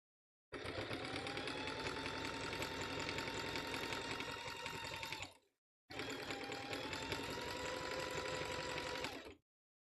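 Sewing machine zigzag stitching thick rope for a basket walls, two long runs of rapid, buzzing mechanical clatter separated by a brief pause, close and steady.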